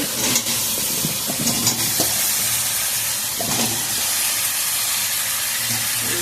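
Potatoes and taro sizzle and hiss steadily in a hot pan for a pomfret fish curry, with occasional scrapes from stirring and a continuous frying roar.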